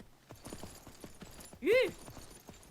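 Horse hooves clip-clop at a steady trot in the survival game Myth of Empires, with a loud whinny breaking out midway over the quiet rhythmic footfalls.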